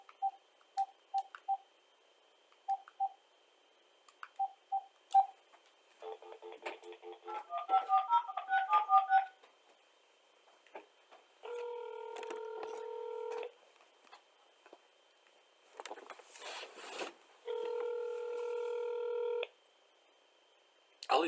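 Telephone keypad dialing a phone number: short single tone beeps, then quick runs of touch-tones and several longer sustained tones, close and clear, with no talk.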